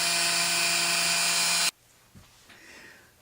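A wood lathe spins while rounding the end of a wooden dowel for a small mannequin doll, giving a loud, steady whirring whine with tonal hum that cuts off abruptly partway through, followed by a few faint clicks and quiet handling noise.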